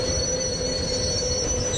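A train pulling into a station in a Bangladeshi train-driving video game, a steady rumbling roll with a sustained squealing tone from the wheels, loud and close with no talking.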